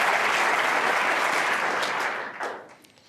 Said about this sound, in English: And listen to the applause.